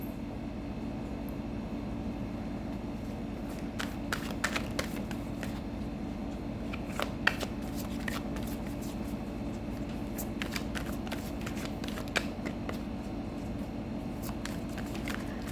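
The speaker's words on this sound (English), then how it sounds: "So let's pull out some more cards." Tarot cards are shuffled and drawn in soft, scattered riffles and light slaps, faint and close against a constant low background hum, with brief flurries of card noise spread across the whole stretch.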